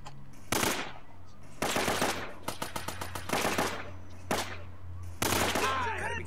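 Gunfire in the action video game Uncharted: several loud broadband blasts, some rapid automatic bursts with a clear stuttering rhythm, spaced between short gaps over a steady low background hum.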